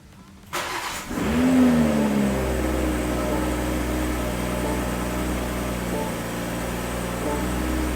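A 2023 BMW M240i engine cranks and catches, then settles into a steady, loud idle as it warms up, with a brief rise in revs just after startup.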